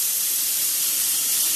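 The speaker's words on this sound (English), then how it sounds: "When you get a little bitty pinhole in a steam line, it cuts like butter." Steam from a pinhole leak in a steam line in an underground utility space hisses loudly and continuously, a harsh, bright, unbroken jet of sound with no voices.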